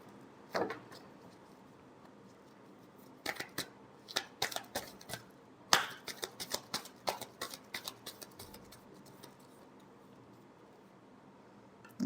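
A deck of tarot cards is shuffled by hand in a quiet room, giving scattered bursts of crisp riffling and snapping clicks that come in quick clusters.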